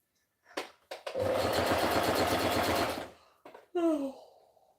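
A sewing machine doing zigzag stitching runs in one loud, steady, rapidly pulsing burst of about two seconds, framed by short handling clicks and a voiced exclamation just after.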